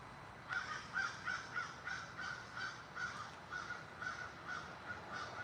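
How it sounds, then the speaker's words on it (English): Crows caw back and forth in a steady series of harsh, evenly spaced calls, clear and fairly close against a soft outdoor hiss. "Couple of crows talking to each other."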